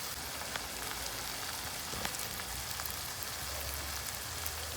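Onion, tomato and coriander frying in the oil left from cooking eggs, a steady, dense crackling sizzle that holds at an even level throughout with no voices.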